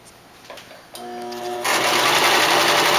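Sewing machine stitching curtains for a stage entrance, the motor revving up into a steady, loud, close whir with no talk over it.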